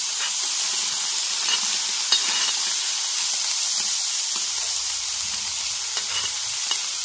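Prawns fry loudly in coconut oil with a little water, giving a continuous, intense hissing sizzle close by with small pops and stirring sounds, no voices.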